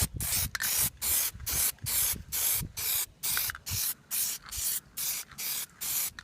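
Plasti Dip is sprayed in a third coat onto a Chevy Blazer emblem, with about a dozen short, even hissing bursts from an aerosol can, close and regular, separated by brief silent gaps.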